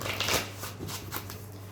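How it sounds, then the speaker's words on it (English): Quick riffling bursts of playing cards being shuffled close up, a brief flurry of papery flicks. "How many more shuffles?"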